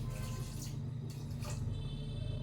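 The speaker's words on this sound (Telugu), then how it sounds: "కొద్ది వాటర్ వేసుకోండి" Water is poured into a pan of melted jaggery heating on a stove, giving a steady close splashing and trickling wash that carries on throughout without any voices.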